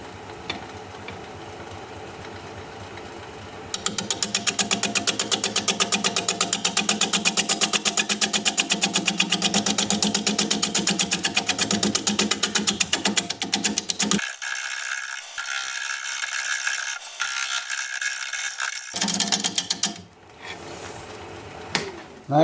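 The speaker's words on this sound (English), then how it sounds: "We're going to be turning at about 480 RPM, 5/8 inch bowl gouge" A wood lathe turning a bowl at about 480 RPM while a 5/8 inch bowl gouge cuts, a steady rapid chattering scrape that runs for a long stretch, pauses, then resumes more briefly.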